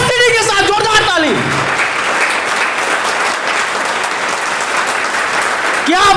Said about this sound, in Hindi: सीढ़ी के साथ जोरदार ताली